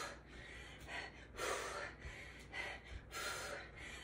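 Quiet, heavy breaths during a no-equipment cardio workout, a few distinct gasping inhales and exhales repeating at an uneven pace, close to the mic with no talking over them.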